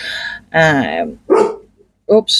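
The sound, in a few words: dog barking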